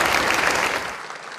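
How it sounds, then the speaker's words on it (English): A Chamber of Commerce luncheon audience applauds the caterer, a dense, steady wash of many hands clapping at once that stays loud, then eases slightly toward the end, with no talking over it. "let's give Karen's a round of applause for catering today."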